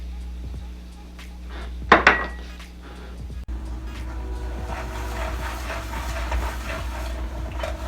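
A spoon scraping and stirring a flour roux in a pot for seafood etouffee, with a couple of sharp clinks against the metal followed by a steady, soft scraping close by.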